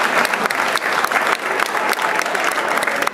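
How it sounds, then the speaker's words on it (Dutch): A studio audience bursts into dense, steady applause that holds at full strength throughout, honouring a contestant on a Dutch television show about partners and their hobbies. "Een applaus voor Guy Rompelbarek."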